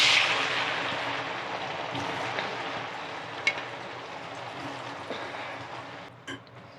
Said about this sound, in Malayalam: ഈ എണ്ണയ്ക്കകത്തോട്ട് തന്നെ ഇട്ടങ്ങ് വറുത്ത്.